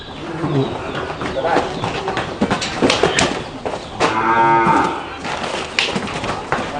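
Cattle moo on a Thai cattle farm with cow-calf pens, a long loud bellow standing out amid continuous speech and crowd chatter.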